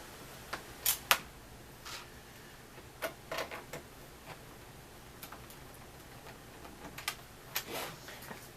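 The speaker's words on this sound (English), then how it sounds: "So we're going to remove these two screws here." Sparse, faint clicks and ticks at close range as a screwdriver backs two screws out of a panel on an HP Officejet Pro 8620 printer, scattered irregularly over a quiet background.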